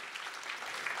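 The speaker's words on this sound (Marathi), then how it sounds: "दीपेंद्र ज्योती या सगळ्यांसाठी जोरदार टाळ्या होऊन जाऊ द्या प्लीज" Applause for a Ganeshotsav festival committee at a stage drama performance, a short burst of steady crowd clapping, moderately loud and fairly close, without voices.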